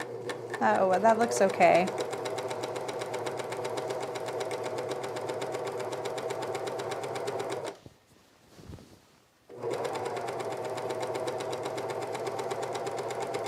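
A sewing machine stitching the hem of a Sydney dress runs in a fast, steady whir, pausing briefly partway through, while someone speaks briefly near the start.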